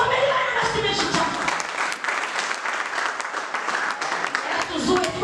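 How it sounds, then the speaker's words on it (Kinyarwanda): A church congregation applauding in praise of God, loud sustained clapping from the crowd with a voice talking over it. "komera Imana amashyi menshi cyane"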